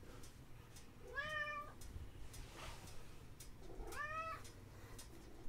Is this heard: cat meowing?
yes